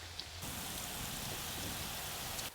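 Cauliflower popcorn pakoras deep fry in hot oil, making a dense, continuous crackling hiss that carries on evenly from start to finish.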